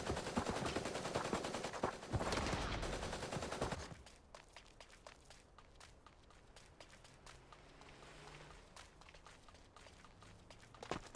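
Dense bursts of rapid video game gunfire ring out loud for about four seconds, then give way to quieter scattered shots, footsteps and movement noise.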